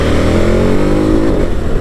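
A 2021 KTM Super Adventure motorcycle with a standard exhaust snarls loudly and close, its note rising through the revs in a continuous roar before easing slightly at the end.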